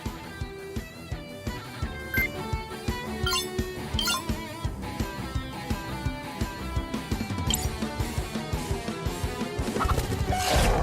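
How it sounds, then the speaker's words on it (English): A chicken cackles during a special surprise attack in the video game Cris Tales, with repeated clucking and gobbling bursts over busy game music. "Was that a chicken?"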